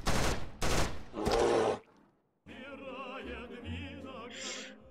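AK-47 fire in the Boris Russian Bear video game comes as loud, dense bursts of automatic shots, followed by a brief silence and then game music and effects underneath.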